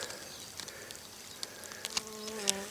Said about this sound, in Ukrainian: І ось на таку квітку липнуть іще бджоли.